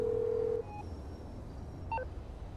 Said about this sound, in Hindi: मैं लेस्टर को फ़ोन लगाता हूँ